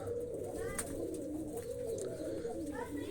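Domestic pigeons coo softly and repeatedly at a home loft where chicks have just hatched, with a steady murmur of voices and background noise underneath.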